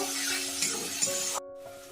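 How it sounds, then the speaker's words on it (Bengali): Turmeric and salt stirred into frying spices in a pan for a lobster leg curry: a close, steady sizzle with scraping stirring strokes, cutting off abruptly near the end, no voices. "নুন হলুদটা আমি মশলার সঙ্গে ভালোভাবে মিশিয়ে নেব"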